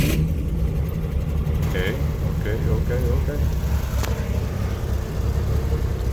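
A Chevrolet Corvair engine runs after starting, a loud, steady engine rumble throughout, with a brief spoken word over it.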